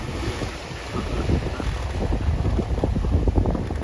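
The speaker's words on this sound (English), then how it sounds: "Awesome sailing on his father's yacht." Sailing yacht running downwind at seven or eight knots off the east coast of Australia, with steady wind buffeting the microphone and water rushing and splashing along the hull, loud and close, no talk.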